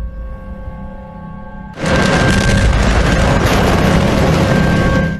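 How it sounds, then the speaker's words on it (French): A massive explosion in Beirut in August 2020 hits abruptly after a low, steady hum, then becomes a loud, sustained, roaring rumble that lasts several seconds. "une première explosion fut entendue à Beyrouth, suivie d'une autre plus puissante"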